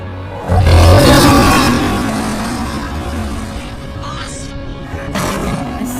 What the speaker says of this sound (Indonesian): mereka pun dikejutkan oleh auman singa sang Raja Narnia